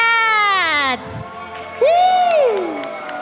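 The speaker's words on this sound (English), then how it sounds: "we can see all the team members cheering for them" Team members cheer and whoop loudly at an esports grand final, sharp excited shouts with a rising, sustained yell, crowd noise behind them.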